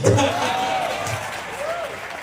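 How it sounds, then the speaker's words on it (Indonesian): A crowd at a talk applauds for Rocky Gerung, a short, steady wash of clapping with voices audible beneath it. "Tepuk tangan buat Bang Rocky"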